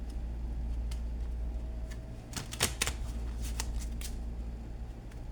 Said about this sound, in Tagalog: Ngayon, balasahin natin.